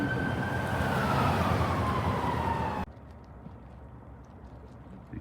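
An ambulance siren wails outdoors during a walk in a seaport city, its steady tone sliding slightly lower as the vehicle passes. Then the sound cuts off abruptly, leaving quiet background noise.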